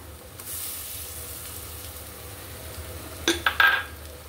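Green chili paste and tomato paste sauté on low heat for a shrimp and taro dish, a soft low sizzle that holds steady, then a few sharp clinks of a utensil against the pan near the end.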